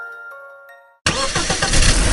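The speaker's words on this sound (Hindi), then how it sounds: "और दोनों बाइक लेकर गुल्ली बुल्ली और शॉन के घर की ओर जाने लगे।" A motorbike engine starts abruptly after a fading tonal sound, then runs and revs with a rough, loud mid-range rumble that swells toward the end, close by.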